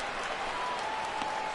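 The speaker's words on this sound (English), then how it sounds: "This crowd oohs and ahs every time this guy hits a fly ball" A stadium crowd in the MLB The Show '16 baseball video game reacts to a fly ball with a broad, continuous roar and murmur, fairly loud and sustained throughout.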